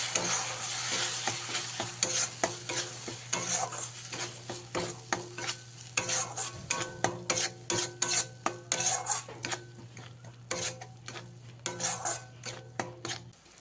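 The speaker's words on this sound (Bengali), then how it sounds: "পেস্ট করে রাখা সেই মশলা দিয়ে খুব ভালো করে মিশিয়ে নিয়ে কষিয়ে নিতে হবে" A spoon scrapes and clatters against the pan in a rhythmic run of strokes as a spice paste is stirred and fried in oil for tel koi fish curry, over a continuous sizzle with a low steady hum beneath.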